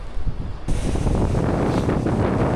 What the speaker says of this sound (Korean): 바람 소리를 음악 삼아.